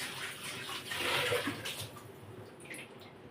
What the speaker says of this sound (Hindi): ये रही कढ़ाई, इसको धो लेती हूँ पहले मैं।